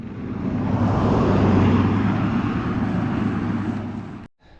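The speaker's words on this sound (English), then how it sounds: "So I just put the drone up" A camera drone flies over a Colorado mountain pass, giving a steady, fairly loud whirring drone that holds for about four seconds and then cuts off abruptly, with no talking.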